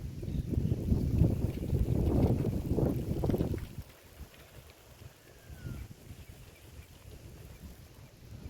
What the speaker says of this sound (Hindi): और हल्की हल्की हवा चलती हुई।